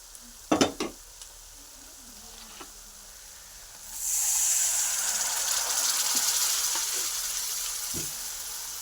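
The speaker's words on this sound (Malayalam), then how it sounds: "കുറച്ച് വിനാഗിരി ഒഴിക്കുകയാണ്" A steady sizzling hiss rises suddenly and holds as vinegar hits a hot pan of beef pickle, after a few faint clinks and scrapes.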